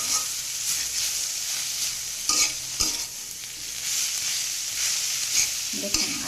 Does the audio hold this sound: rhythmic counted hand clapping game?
no